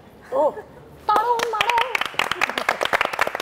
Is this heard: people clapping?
yes